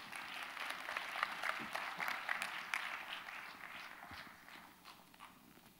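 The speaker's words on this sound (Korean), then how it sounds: "큰 박수로 담임 목사님 맞이하시겠습니다" A church congregation claps in steady, broad applause to welcome the senior pastor to the front, a dense sustained patter of many hands filling the room and tapering slightly toward the end.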